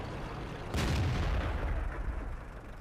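A Black Prince tank in World of Tanks fires its cannon, one sudden booming blast that rolls off into a fading rumble, fairly quiet overall.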